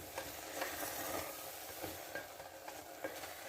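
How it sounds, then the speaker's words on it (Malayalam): Upma with vermicelli and grated coconut being stirred in a pan, quiet scraping strokes over a faint, steady sizzle. "അപ്പോൾ ഇതൊന്ന് ഇളക്കി കൊടുക്കാം നമുക്ക്"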